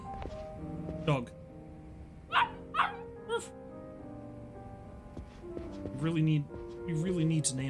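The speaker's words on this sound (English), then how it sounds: "Dog." A dog barks in the video game Yakuza Kiwami, with a few short barks and yips heard around the middle of the scene and mixed in with speech and music.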